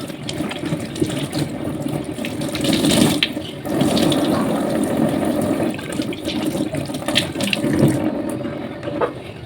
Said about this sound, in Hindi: ये सारे मेरे बर्तन पड़े हुए हैं जो मैं वॉश करूंगी